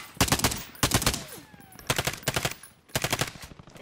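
Automatic gunfire from a multiplayer shooter video game rattles in four close, loud bursts of rapid shots separated by brief pauses, with enemy fire coming from a tower.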